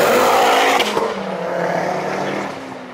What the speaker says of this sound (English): you can hear the turbo on the Ford RS blowing off the wastegate opening and the pressure going.